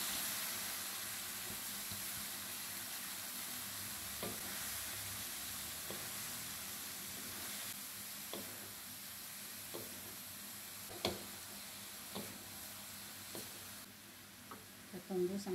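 Cabbage stir-frying in a wok with oyster sauce and sugar for sambal kol, a steady broadband sizzle with occasional scraping clicks of a stirring utensil, close and fairly loud throughout.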